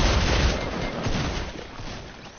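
Dense bursts of shotgun fire in a PS4 online duo shooter match, loud, booming blasts that overlap into a heavy rumble and slowly fade.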